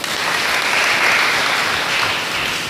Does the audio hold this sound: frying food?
no